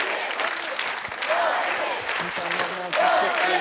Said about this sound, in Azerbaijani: Bu alqışları, bu sevgini əldə etdiniz